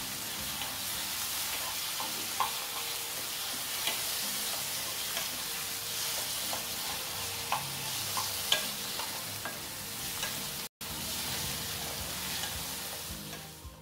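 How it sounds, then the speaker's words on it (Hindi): Steady sizzling with scraping stirs as tomato pulp is mixed into hot oil with ginger-garlic paste in a pan, soft and continuous, with occasional spatters over a low cooking hiss. "इसमें हमने ऐड कर लिया है टमाटर का पल्प और अच्छे से इसको मिक्स करेंगे इस तेल में"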